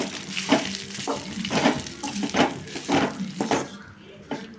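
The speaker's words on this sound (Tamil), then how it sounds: "இப்போ இதை ஒரு வதக்குறோம்" Coconut rice being sautéed and stirred in a pan, with a steady sizzle broken by repeated scraping strokes of a spoon at a close, even rhythm, fading out near the end.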